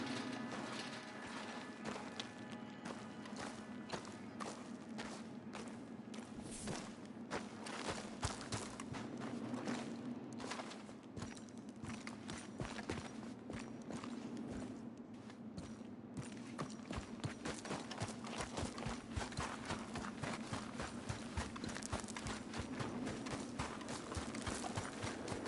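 Horse hooves clip-clop steadily through a Red Dead Redemption 2 game scene, a continuous walking rhythm over a low ambient rumble with no talking.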